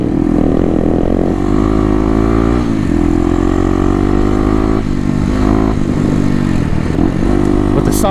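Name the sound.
stock Kawasaki KLX dirt bike with FMF exhaust revving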